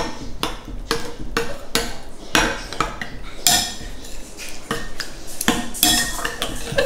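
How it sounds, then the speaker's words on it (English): Tomato sauce with basil and garlic stirred in a metal pot for a vegan pizza, repeated sharp spoon clinks and scrapes in an uneven rhythm, close and fairly loud. "And then we're just going to give that a good stir."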